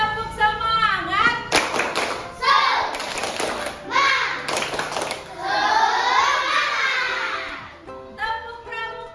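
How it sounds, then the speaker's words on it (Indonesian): Children in a classroom perform a rhythmic spirit clap, sharp bursts of unison claps mixed with chanted voices and a teacher's speech between the clapping. "Jadi kita tepuk semangat dulu biar kita tetap semangat"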